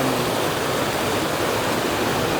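Fast, deep river water rushing through a mountain valley crossing, a dense, steady broadband roar close by with no voices.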